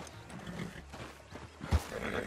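Horse hooves in the Red Dead Redemption 2 video game, a few soft uneven clops under a low background hum, with one sharper thud near the end.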